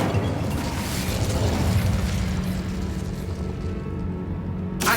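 Casting the Incendio fire spell in Hogwarts Legacy unleashes a loud, roaring burst of flame that rumbles on for several seconds, heavy and close, then tapers off.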